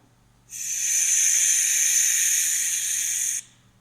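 A steady, sharp snake hiss starts abruptly, holds evenly for about three seconds, then cuts off, with nothing else around it.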